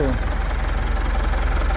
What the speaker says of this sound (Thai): เครื่องยนต์คันนี้ครับเครื่องดีเซล